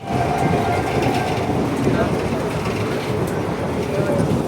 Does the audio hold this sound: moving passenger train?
yes